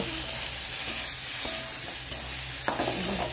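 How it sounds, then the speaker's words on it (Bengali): A spoon stirs fish bharta with cardamom paste in a wok, giving soft scraping strokes over a constant close sizzle, with a few sharper clinks of utensil on metal. "এই যে এলাচ বাটাটা দিয়ে নাড়াচাড়া করে"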